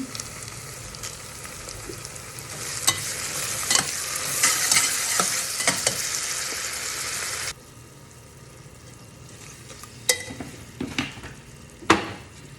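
Cinnamon, cloves and bay leaf fry in hot oil for a beef curry, with a loud, busy sizzle and stirring clicks that suddenly drop to a quieter crackle, followed by a few sharp utensil knocks against the pan.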